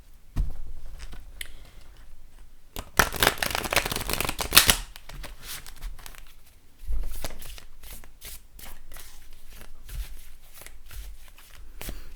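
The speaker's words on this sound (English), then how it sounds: "I'm going to shuffle the whole deck this time" Tarot cards riffled and shuffled in repeated bursts, one loud riffle in the middle, with softer shuffling and handling around it, close and without speech.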